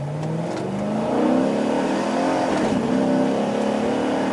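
A modified Chevy Caprice police car engine revs and accelerates with a rising, throaty roar, loud and close, with no voices.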